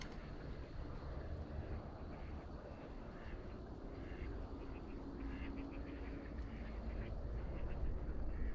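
Ducks quacking faintly in the distance over a low outdoor rumble of wind and water, scattered calls across the whole stretch.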